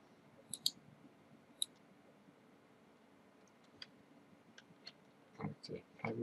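A computer mouse is right-clicked while someone plays a video game on a PC. Faint, sparse ticks sound over a low hiss, and a louder shuffling noise comes near the end.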